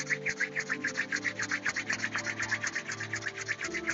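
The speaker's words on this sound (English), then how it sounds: "bring your hands, palms together, and go ahead and start rubbing them back and forth" Palms rubbing briskly back and forth in a steady, rapid swishing rhythm, close and continuous for several seconds over a faint low background hum.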